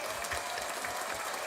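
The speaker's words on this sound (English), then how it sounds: "Round of applause one more time for you." Brief steady crowd applause at a live podcast show, a dense wash of clapping heard at middle distance.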